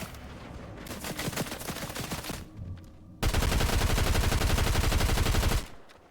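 Rapid automatic gunfire in Fortnite Battle Royale, a steady stream of close, loud shots in one burst, a short lull, then a second heavier continuous burst that cuts off abruptly near the end.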